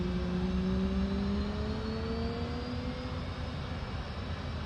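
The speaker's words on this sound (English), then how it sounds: "we should start adding fuel to the left engine to get it going" An F/A-18C's jet engine spooling up during startup in the DCS flight simulator: a steady whine with rising tones over a constant low rumble of the running APU and engine, even and sustained with no talk.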